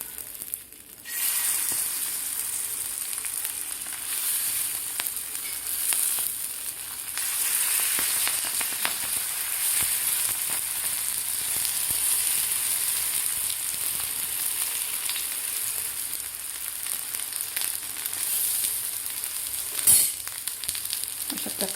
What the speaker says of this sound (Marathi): आता यामध्ये आपल्याला हे पानं ठेवून द्यायचे आहेत तव्यावर